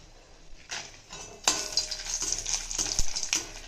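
Dried red chillies tossed into hot oil for Andhra paruppu podi, stirred with a utensil scraping and clinking against the pan, a soft sizzle rising after a sharp clatter partway through.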